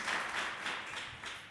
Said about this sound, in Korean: 우리 박수 한번 영광의 박수 감사의 박수 드렸으면 좋겠습니다